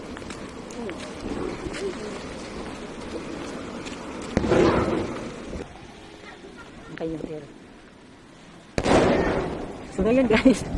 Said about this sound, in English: Hanabi or fireworks.